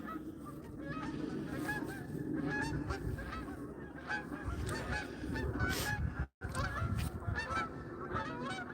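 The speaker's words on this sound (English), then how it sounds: "Yeah, we got a couple geese flying up" A couple of geese honk repeatedly as they take off and fly up from the water, their calls carrying steadily over several seconds outdoors, loud and continuous with overlapping voices.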